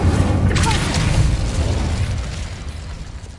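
A fiery burst from the Incendio spell in the video game Hogwarts Legacy, a loud rumbling whoosh that starts strong and slowly fades over a few seconds.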